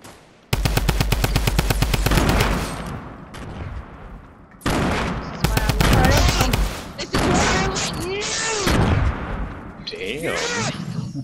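Rapid automatic gunfire in the video game Fortnite rattles in loud bursts, broken by pauses and further shots, with players talking over the action.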